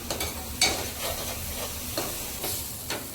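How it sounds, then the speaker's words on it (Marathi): Green coconut masala paste sautés in oil for a clam curry, giving a steady close sizzle broken by a handful of sharp stirring scrapes, with no talking. "याला मस्तपैकी परतून घ्यायचं"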